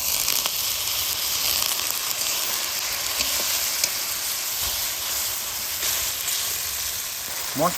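Spices frying in oil for mutton chusta, a loud close steady sizzle with constant crackle, a few faint scrapes of stirring and a brief rising squeak at the very end.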